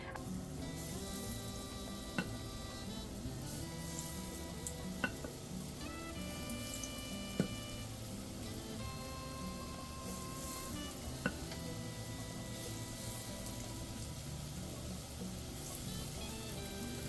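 Akara bean fritters fry in hot oil while being stirred, giving a steady, close, unbroken sizzle punctuated by a few sharp clicks from the utensil.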